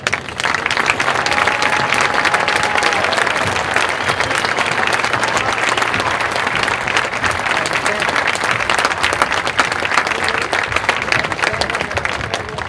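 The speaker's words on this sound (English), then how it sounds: "let's give them a big round of applause as well" A stadium crowd applauds military families standing during a halftime ceremony, loud sustained clapping and cheering that holds steady throughout without letting up.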